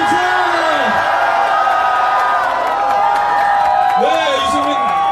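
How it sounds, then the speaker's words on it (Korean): A crowd cheers, whoops and shouts loudly for a presidential candidate at a street campaign rally outside Korea University in 2017, a dense sustained roar with rising yells, close and continuous throughout. "다시 한번 5초간 함성!"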